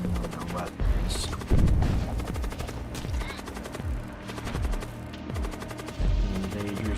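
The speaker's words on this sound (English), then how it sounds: "Send a missile at their shields. Storm cannon on their shield, storm cannon on their weapons." Storm cannon and missile fire aimed at an enemy ship in the Void War video game, a string of repeated booming shots with descending throbbing tones, steady and fairly loud against a humming background, with a voice talking over it.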